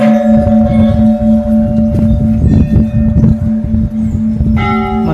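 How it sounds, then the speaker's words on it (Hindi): Large bells hang at the Chitai Golu Devta temple and are struck repeatedly, ringing loud and close in an uneven rhythm, their metallic tones overlapping and sustaining, with no speech. "बहुत बड़े बड़े घंटियाँ यहाँ पर लगी हुई हैं।"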